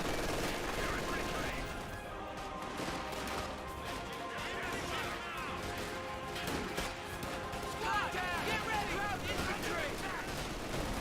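MG42 machine gun fire in Company of Heroes 2, rattling in dense bursts amid a busy battle mix of other gunfire, explosions and chirping effects, with a voice commentating over it.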